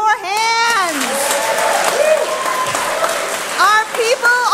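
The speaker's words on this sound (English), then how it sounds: "clap your hands" At a Juneteenth environmental justice gathering, a crowd claps along beneath a loud, impassioned voice that rises and falls, with other voices calling out over the sustained clapping.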